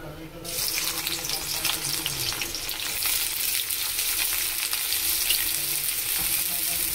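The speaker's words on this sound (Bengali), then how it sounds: "পেঁয়াজটা একটু ভেজে নেব" Chopped onion dropped into hot oil for eggplant bhorta, breaking into a loud, steady sizzle that holds close and even after a brief quieter start.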